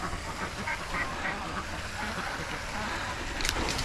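Ducks quacking around a farmyard during morning chores, a few scattered calls over steady outdoor background noise, moderately near.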